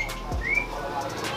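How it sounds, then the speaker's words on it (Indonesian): A quail calls once, a short, clear whistled note, fairly faint against quiet ambient background at a reportedly haunted house, with no voices. "Burung puyuh."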